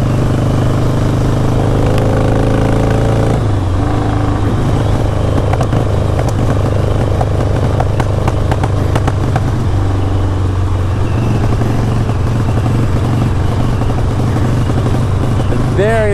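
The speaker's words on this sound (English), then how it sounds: "this bike fires right up" A 1983 Harley-Davidson Ironhead motorcycle engine runs close by with a loud, lumpy idle and deep throbbing pulses. It revs up and settles back, and someone talks over it.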